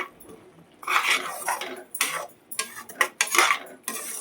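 Masala for paneer palak being sautéed with salt in a pan, heard as a series of irregular metallic clinks and scrapes of a spoon against the pan, close and fairly loud, with a soft sizzle beneath.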